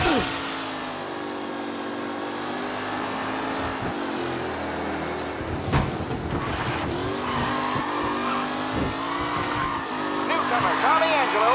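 Race cars in a video game slide and skid across the track, with tires squealing and engines whining loudly over a steady roar, while a commentator talks throughout.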